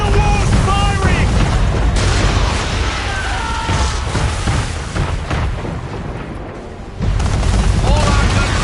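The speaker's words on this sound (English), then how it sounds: "Man of war's firing!" Man-of-war cannons fire in Assassin's Creed 3 amid dense naval battle noise, heavy booms rolling under a constant roar, with speech mixed in and a lull before the din surges again.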